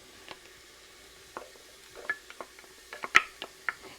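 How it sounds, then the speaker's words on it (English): Garlic and onions sauteing in oil in a pan, a faint low sizzle broken by scattered light clinks and scrapes of stirring. "So the garlic has been sauteing a little bit"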